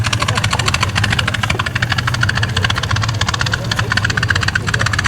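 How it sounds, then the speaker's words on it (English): Vintage aircraft engine opening up at an evening airshow, a loud, steady, throbbing roar with rapid pulsing firing beats filling the whole stretch, close and continuous. "And opening the engine out."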